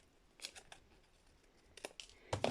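Scissors snip the corner off folded paper in a few short crisp cuts, close and fairly quiet, with pauses between the bursts.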